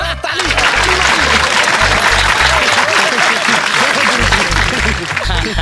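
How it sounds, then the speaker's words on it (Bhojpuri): A group of people claps continuously in a Bhojpuri film scene, a dense wash of applause that stays loud throughout over a rhythmic low beat. "ताली मारी महाराज ताली"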